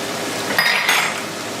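Chopped garlic dropped into a hot pan for chicken cacciatore, a brief clink of metal utensils against the pan over a constant loud sizzle of frying.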